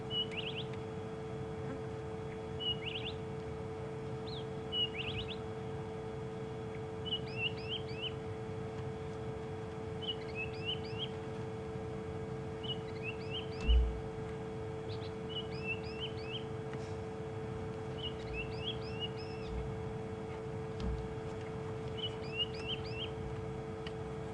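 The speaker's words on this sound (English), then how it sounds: "the bird that is making that call" A wild bird calls repeatedly during a sunset safari drive, giving short chirping phrases in regular bursts every second or two, moderately near, over a steady low hum and a faint background rumble.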